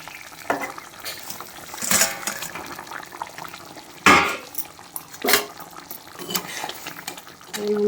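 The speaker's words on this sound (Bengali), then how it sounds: "একে একে সব ভাজা মাছগুলো দিয়ে দেবো" Fried bhola fish pieces go one by one into a pan of simmering fish curry, giving soft splashes and clatter over a steady bubbling fry, with a few sharper knocks of a utensil against the pan.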